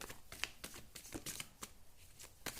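Tarot cards are shuffled and drawn by hand, a quick, irregular series of crisp flicks and slaps at close range, with no voice over them.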